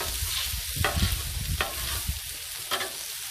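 Paella rice frying and browning on a griddle, loud close sizzling broken by repeated sharp spatula scrapes and stirring bursts.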